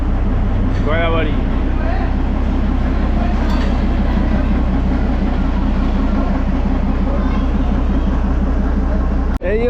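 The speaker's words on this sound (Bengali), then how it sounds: "ট্রেন আসছে, গয়াবাড়ি জঙ্গল সাফারি ট্রেন, এই দেখুন।" A small Gayabari jungle safari toy train, a single engine pulling one coach, arrives with a steady low rumble and rail clatter, loud and close throughout, while a person talks over it.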